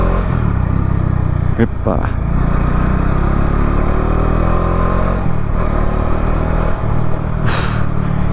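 A Bajaj Dominar 400 motorcycle pulls out onto a city avenue, its engine droning steadily and climbing under acceleration, loud and close throughout, with a rider's brief exclamation over it.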